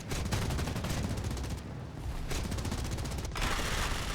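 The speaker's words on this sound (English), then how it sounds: "this may be a perfect opportunity to hear the guns" Aircraft guns firing in War Thunder, the PC 1400 X (Fritz X) bomber setting, as loud continuous rapid bursts that run almost unbroken, with a brief lull partway through before the firing resumes.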